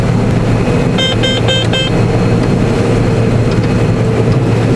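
Combine harvester engine running steadily while unloading grain into a grain cart on a farm, a loud continuous low rumble close by with a brief burst of tonal whine partway through.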